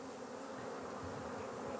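Honeybees swarm at a Corsican beehive where new queens are being raised, producing a dense, steady, close-up buzzing drone with no other sounds.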